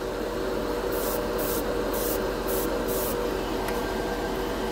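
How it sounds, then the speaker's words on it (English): Createx Wicked Colors chrome paint hisses from an airbrush in several short bursts over a steady background hum, with no talking. "This is out of the bottle, it doesn't run. It sprays really good."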